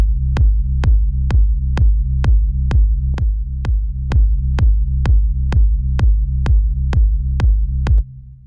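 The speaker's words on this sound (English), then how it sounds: "So I believe this would be the sub bass." Deep sub bass synth with a low pass filter, auto filter and delay effects, pulsing in a steady rhythm of about fourteen even hits with sharp clicky attacks, loud and alone before cutting off near the end.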